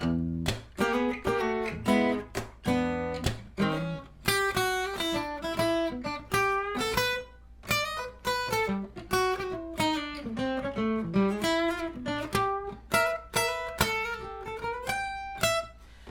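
An electric guitar plays a bouncy, swinging blues line of short phrases and bent notes over a metronome clicking on beats 2 and 4, clean and up close, with no talking.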